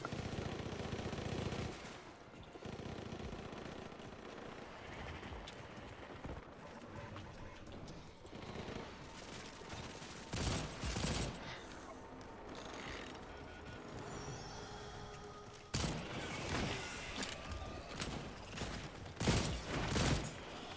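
Turret gunfire in the video game Second Extinction rattles out in loud, dense automatic bursts, with sharper volleys breaking in near the middle and end and no voices over it.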